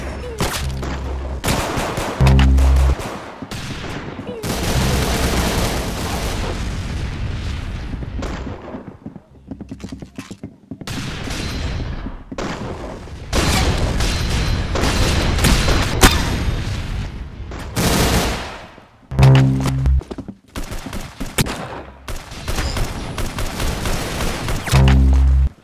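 Video game gunfire, loud booming shots and rapid bursts that come in clusters with short gaps, sharp and close throughout.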